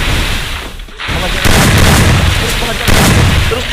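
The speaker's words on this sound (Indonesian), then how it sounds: "Kenes ada di bawah menembak Bumi." Gunfire rings out in a video game, a loud dense barrage of booming shots that pounds on without letup and swells in two stronger surges, with no voice heard over it.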